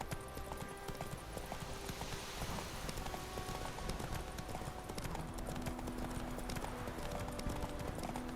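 Horse hooves clip-clop at a steady gallop rhythm in The Witcher 3 video game, close and continuous over game music, with a brief whinny.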